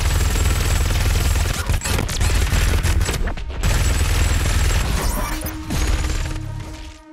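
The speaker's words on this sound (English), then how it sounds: "Oh, a chain gun." Chain gun firing in DOOM Eternal, a loud continuous burst of rapid gunfire with crashing impacts and a brief break in the middle before the barrage resumes, close and dominant, no talking.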